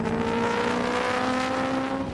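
A Nissan Z GT500 race car engine drones steadily at high revs, a sustained buzzing whine from the speedway heard at some distance from indoors, with no talking.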